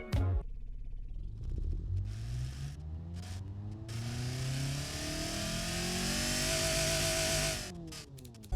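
A small 1.1-liter car engine in a video game revs up and down, its pitch climbing and sliding in sweeping waves, loud and close, with a buzzy, strained tone.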